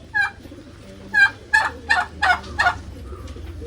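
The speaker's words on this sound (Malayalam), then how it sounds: "ടർക്കിയൊക്കെ ഉണ്ട് രണ്ടെണ്ണം ഇത് ആണാണ്" A male turkey gobbles in a run of rapid, rattling bursts, six or so calls close together, loud and nearby with no voices.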